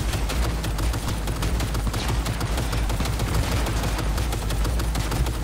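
Rapid bursts of automatic gunfire from Cyberpunk 2077 crackle loud and dense, with shots stacking into a continuous fusillade throughout.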